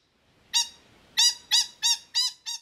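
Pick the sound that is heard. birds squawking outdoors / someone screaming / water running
birds squawking outdoors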